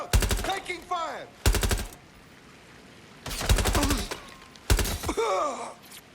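Bursts of gunfire from a Watch Dogs Legion firefight on PS5 come in four loud volleys, each dense rapid shots with ringing tails, separated by quieter gaps of ambient background.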